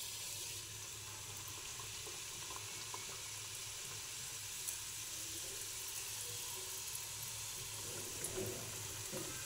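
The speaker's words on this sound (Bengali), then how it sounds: "এবার আমি ফ্রাই করব। এবার আমি এটাকে ভেজে নেব। তেলটা আমার গরম হয়ে গেছে" Cheese momos frying in hot oil, a continuous soft bubbling sizzle that stays fairly even and muted, with a low background hum.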